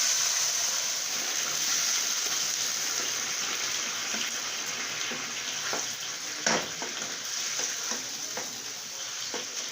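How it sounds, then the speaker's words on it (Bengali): Hot water goes into a pan of frying lentils for khichuri, producing a sustained loud hissing sizzle with occasional clinks and a brief knock near the end. "দিয়ে দিলাম গরম পানি"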